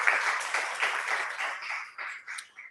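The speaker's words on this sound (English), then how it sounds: "So please give her a round of applause" Faculty senate attendees give a round of applause, a fairly quiet, even patter of many hands clapping in a meeting room that thins toward the end.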